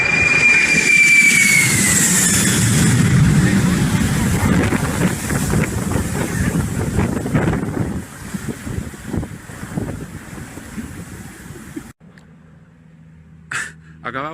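Roaring jet engine of a supertanker firefighting plane passes low overhead during a California wildfire drop, a loud sustained rumble with a falling whine that fades after several seconds, followed by quieter wind and brief scattered sounds.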